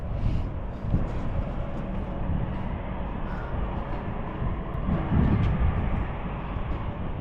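An airplane moving at London City Airport beside the water near Canary Wharf's towers: a steady, broad roar that holds for the whole stretch, swelling slightly near the end, with no talking.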